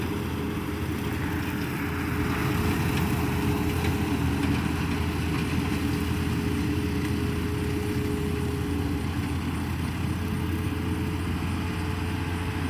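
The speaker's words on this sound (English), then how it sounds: "I think he likes his new tractor." A new tractor's engine runs at a steady idle, a continuous low rumble held at even loudness throughout with no talking.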